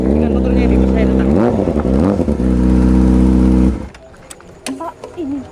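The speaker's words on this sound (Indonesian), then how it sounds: "Dengan motornya ini bos saya datang." A motorcycle pulls up close with its engine droning loudly and revving up and down in a couple of swells before cutting off abruptly, followed by a few faint clicks and a quiet voice.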